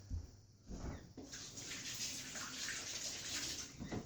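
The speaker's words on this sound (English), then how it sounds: "I'm going to wash my fingers." Fingers being washed under a running tap, a steady broadband rush of water that runs nearly the whole time, close by, with brief thuds at the start and end.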